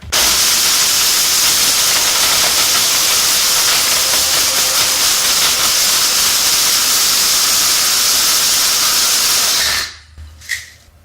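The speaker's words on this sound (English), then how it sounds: "you can always run it through the grinder one more time just to make sure there's no chunks or anything like that left over" A Protocycler grinder chewing through plastic, a loud, steady hissing roar that holds for about ten seconds, then cuts off, followed by a couple of small clunks.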